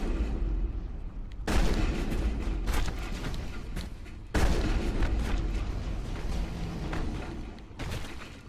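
Shotgun fire in Mass Effect, a few loud booming blasts a few seconds apart, each followed by dense rumbling battle noise, close and heavy with no speech.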